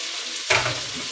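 A teaspoon of ginger is tossed into a hot pan for Cantonese-style stir-fried noodles, setting off a sudden burst of sizzling halfway through that settles into a steady frying hiss.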